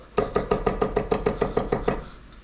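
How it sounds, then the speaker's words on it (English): A Chinese cleaver rapidly minces garlic on a cutting board: about eleven crisp, evenly spaced chops in a quick steady rhythm, close and clear with no talking. "one of the nice things about Chinese cleavers is that they allow you to do things like mince garlic really fast."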